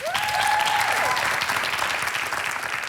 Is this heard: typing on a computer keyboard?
no